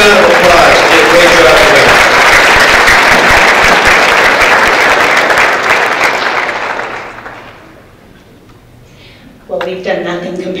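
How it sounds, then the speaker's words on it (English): Audience applause at an award ceremony, loud dense clapping from a large crowd that fades out after several seconds, followed by someone speaking over the hall's sound system. "Give a round of applause."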